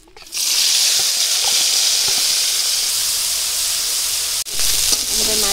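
Fish hit hot oil and fry with a loud, continuous hiss and sizzle that starts abruptly, dips briefly near the end, then carries on, with faint cooking clatter and no talk.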